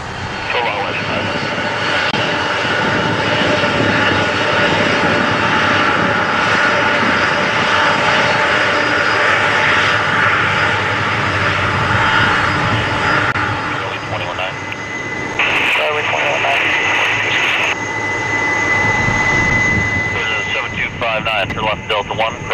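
A jet airliner takes off from runway 06 left at Toronto Pearson airport, its engines holding a loud, steady roar throughout while air traffic control radio talk runs underneath.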